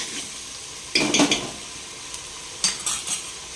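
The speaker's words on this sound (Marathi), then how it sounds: "मसाला मस्त फ्राय होऊ द्यायचा आहे तेलामध्ये" Masala frying in hot oil for a spicy Solapuri-style amti, two bursts of sharp sizzling and utensil scraping against the pan, with a quieter low sizzle in between.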